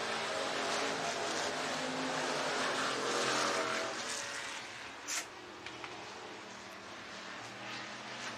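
Hobby stock race cars roar around the Kossuth County Speedway dirt oval in Algona, Iowa, on the final lap, a fairly distant, steady engine drone that swells and fades slightly as the pack passes.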